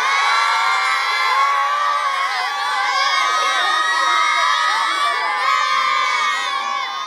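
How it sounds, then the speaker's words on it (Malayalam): Schoolchildren in Kozhikode and Malappuram cheering and shouting together at a World Cup football celebration, a dense, loud, sustained crowd roar of high young voices. "ഇഷ്ട ടീമിനും താരത്തിനുമായി ആരവം മുഴക്കി അവർ ആഘോഷിക്കുകയാണ്"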